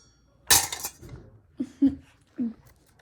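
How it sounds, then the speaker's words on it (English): A metal pot set down on a stove top with a clattering clink, followed by a few lighter knocks and taps spaced out over the next two seconds, close and fairly loud. "Now let me take my pot and go put it on my stove top."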